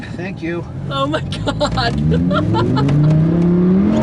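A 2015 Lamborghini Huracán LP 610-4 on a passenger ride-along, its engine climbing steadily in pitch as it accelerates hard. The loud engine runs under excited talking and exclamations from people inside the car.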